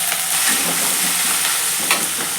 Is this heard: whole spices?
yes